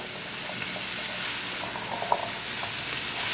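Green beans and pre-cooked chickpeas are stirred in a hot pan, a soft steady sizzle with faint scraping and a few light clinks, close and even with no voices.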